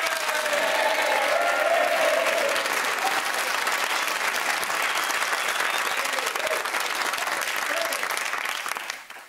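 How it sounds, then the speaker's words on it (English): A studio audience at a Countdown 30th birthday championship grand final claps steadily and loudly for about nine seconds, a dense even wash of applause that fades out at the end. "Big round of applause for Jack and Connor."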